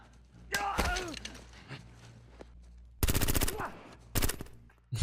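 Gunfire from a Punisher TV episode crackles in sharp bursts, with loud automatic volleys near the start and again later and single shots between them, alongside shouting and talk from the scene.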